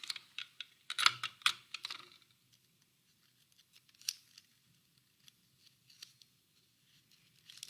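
Paper fins being taped onto a toy rocket, with sharp crinkling and tearing bursts early on, then scattered light taps and rustles spread out amid quiet.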